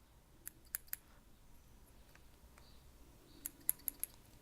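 Scissors trimming the points off wire during a dual coil build on a Geek Vape Ammit V2 RTA, a few faint sharp snips in small clusters over quiet room hiss.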